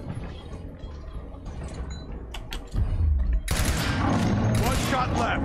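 Gunfire in the Gears Tactics video game, with a burst of rapid automatic shots and mechanical clatter that gets louder and denser partway through, mixed with game sound effects.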